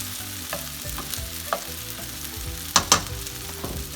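Food being tossed and stirred in a frying pan while cooking camarones a la diabla with Mexican rice, a steady close sizzle broken by several sharp scraping clatters, two loud ones near the end, with no talking.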